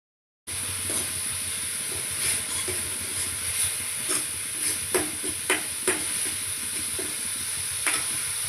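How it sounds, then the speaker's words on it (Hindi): Spices dropped into hot oil for a tadka sizzle steadily with a bright hiss. A few stirring clicks and pops stand out over the frying noise, close and moderately loud, with no talking. "तो अभी लगा लेती हूँ मैं इनको तड़का"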